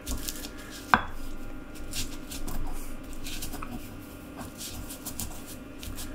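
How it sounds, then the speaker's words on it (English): Garlic cloves get crushed in a pan while broccoli and cauliflower dishes are being cooked: one sharp crunch near the start, then quiet scraping, light clinks and soft kitchen patter at low volume. "Give those garlic cloves a crush"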